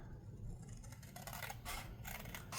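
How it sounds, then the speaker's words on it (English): Scissors cut across a paper card at an angle, giving short, crisp snips close to the microphone over a low, steady background hum. "we can kind of cut it at an angle"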